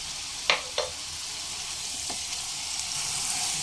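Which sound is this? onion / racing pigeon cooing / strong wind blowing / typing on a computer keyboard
onion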